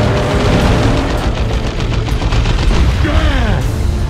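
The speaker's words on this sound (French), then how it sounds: "Des orques font feu sur nous." Orks open fire in Dawn of War II: loud, dense booming gunfire and rattling shots roll continuously through a chaotic battle, with a voice speaking over the din.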